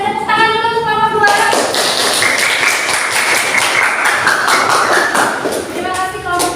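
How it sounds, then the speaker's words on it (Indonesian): Classroom students clap in a dense, sustained burst of applause for about five seconds, with a voice speaking before and after. "kita beri tepuk tangan dulu untuk kelompok 2"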